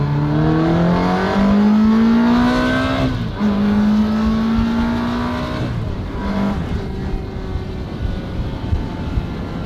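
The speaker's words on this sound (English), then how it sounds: "Let's let Vivaldi hear us driving by, you know?" A Ferrari with a blown head gasket roars past, its engine note loud and climbing as it revs, then dipping and rising again through a gear change as it drives away.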